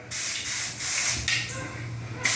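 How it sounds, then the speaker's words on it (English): A spray gun at about 45 psi sprays polyurethane in steady hissing bursts, starting and stopping a few times, loud and close with a low mechanical hum underneath. "So I'm going to use my spray gun."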